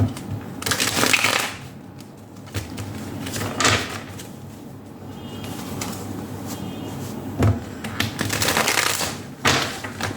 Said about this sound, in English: We are going to be using the Ethereal Visions Tarot this time. And we'll be pulling out 4 cards from here.